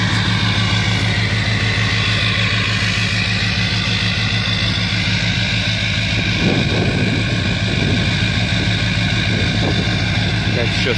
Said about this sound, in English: I'm trying to wait for it to go in high idle so you guys can hear what it sounds like.